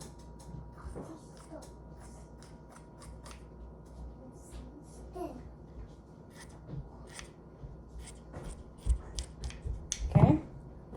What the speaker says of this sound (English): we're just gonna cut a square